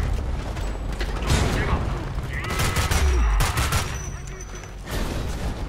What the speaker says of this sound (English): Got a pipe bomb right here.